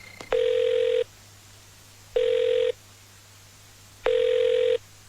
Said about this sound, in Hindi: बजते रहो, उठाऊंगा ही नहीं।